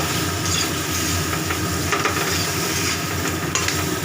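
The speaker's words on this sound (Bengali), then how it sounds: "এটা দিয়ে একটু ভাজা ভাজা বেগুনটাও" Eggplant and chili fry in a pan with a loud, steady sizzle, scattered crackles and occasional scraping from stirring, and no voices.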